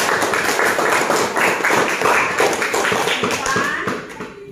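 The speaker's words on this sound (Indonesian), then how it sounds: "Tepuk tangan dulu untuk depan" A classroom of students applauding together, dense fast clapping held at a steady level for several seconds before fading near the end, with voices mixed in.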